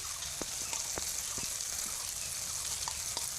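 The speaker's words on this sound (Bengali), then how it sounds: "ভালো করে মশলাটাকে একটু কষিয়ে নিচ্ছি" Spice masala for chicken curry fries steadily in a pan, a constant close sizzle with scattered small crackles and occasional stirring taps.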